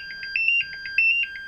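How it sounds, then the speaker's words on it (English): An MSA gas detector in alarm mode gives off a loud, steady series of shrill electronic beeps in a repeating double pattern, close by with no talk. "We can also cover the speaker when it's in alarm mode and quiet it down for talking on the radio"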